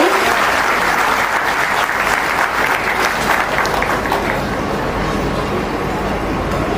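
Loud, sustained applause from a large audience at a jatra folk-theatre committee felicitation event in Bhubaneswar fills the whole stretch as dense, even clapping with no break.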